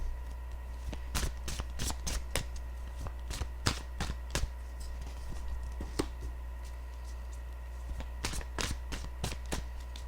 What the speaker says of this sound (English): So let me just shuffle the deck